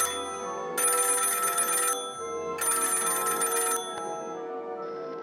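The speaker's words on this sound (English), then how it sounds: "Assistant, answer the phone!" A cartoon telephone rings in two long, bright electronic bursts separated by a short pause, loud and close, with no talk over it.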